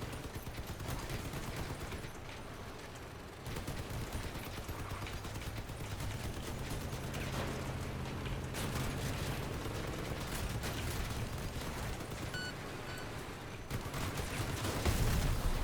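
Dense, continuous bursts of turret gunfire in the CrossCraft video game, rapid crackling shots layered over a rumbling mechanical bed that swells slightly toward the end.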